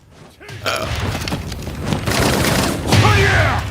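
Many shooters firing at once in a Tekken 7 cutscene: after a quiet start, a dense rattling fusillade of gunshots with booms and mechanical clatter builds and stays loud, with a voice briefly heard.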